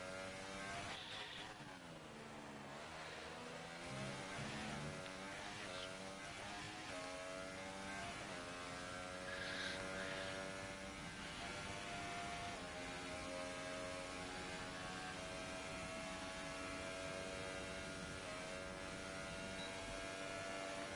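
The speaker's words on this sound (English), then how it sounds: "Sound like Bugatti's engine had a hiccup there" Formula 2 race car at Baku whose engine hiccups, a distant high-pitched engine note rising and falling through gear changes with a brief stumble early on, heard faintly from afar.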